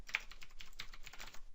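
Code is typed on a computer keyboard in a quick, steady patter of soft, close key clicks, faint and with no talking.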